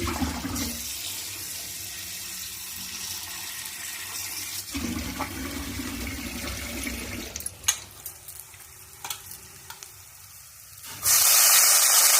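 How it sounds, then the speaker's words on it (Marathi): Ginger and garlic are washed under a running kitchen tap, giving a steady hiss of flowing water with pauses and a few clatters, close by, then a louder gush of water at the end. "आता हे सगळं धुवून घेते."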